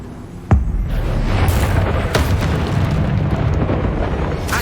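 A Bombarda spell blast in Hogwarts Legacy hits with one sudden, loud boom, then a dense rolling rumble and debris roar that carries on steadily to the end, with no voices.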